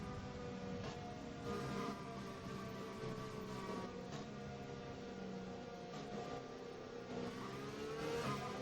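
A Formula 1 car in F1 2020 builds speed at the Australian Grand Prix, its high engine whine climbing steadily through the gears, loud and continuous, with no talking over it.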